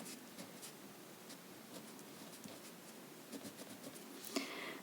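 Pen writing on paper, a faint scratchy stroking that comes and goes in short bursts, quiet and close, with a slightly louder tap near the end and no talk.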